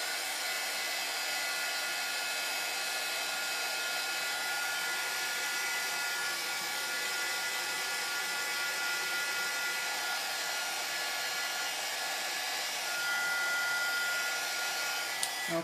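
A hair dryer blows steadily on a screen-printing transfer, a continuous close whooshing hum that holds unbroken throughout with no talk.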